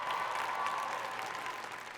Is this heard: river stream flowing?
no